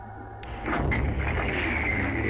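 Torpedoes launched from a submarine in the naval video game Crash Dive 2: a sharp burst at the start, then a loud, sustained low rumbling roar that holds steady to the end, with no talking.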